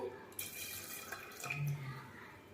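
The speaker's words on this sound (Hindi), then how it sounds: "तो देखिए 2 गिलास पानी डाल दिए हैं।" Water pours from a small glass into a pressure cooker holding chickpeas, a close splashing gush that rises and settles over a couple of seconds, with faint tapping at the start.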